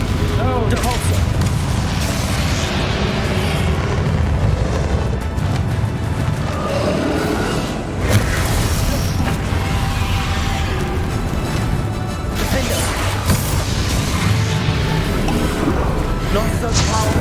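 A Confringo fire spell explodes during a boss battle with Ranrock in Hogwarts Legacy, amid a dense, continuous barrage of booming blasts, crashes and impacts that runs the whole stretch at high loudness, with voices speaking under the din.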